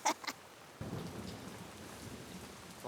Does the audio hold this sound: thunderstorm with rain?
yes